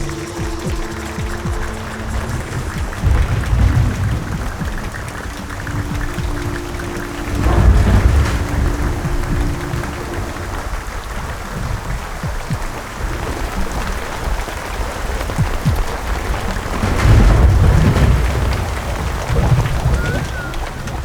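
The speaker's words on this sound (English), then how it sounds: "One very cool effect is the rain." Rain and thunder effect from the animated film Boy and the World: steady heavy rainfall with repeated deep rolling thunder rumbles, loud and close, with a faint tonal hum at times.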